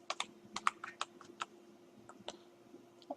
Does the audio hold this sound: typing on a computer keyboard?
yes